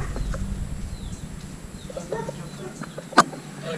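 Chickens at a small poultry farm make scattered clucks and short calls over a low background murmur, with one sharper squawk near the end.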